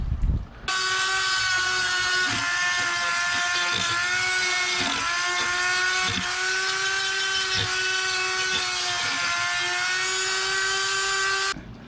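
A flex-shaft rotary tool with a Kutzall-style burr carves a wood spirit face, a loud sustained high-pitched whine that wavers slightly in pitch as the burr drags across the wood, with no talk.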